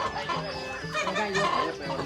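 Dense, overlapping clucking and murmuring from a large flock of around a hundred chickens raised at a home farm fills the air continuously, close and busy, with faint voices underneath.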